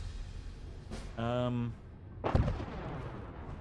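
Gunfire from enemy robots in the video game Fallout 4: two short loud bursts, a hard crack and then a brief volley with a buzzing mechanical tone between them, over a low game background.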